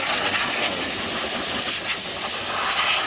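Compressed air blasts steadily across the engine of a combine harvester, a loud, continuous close-up hiss with no pauses or talk.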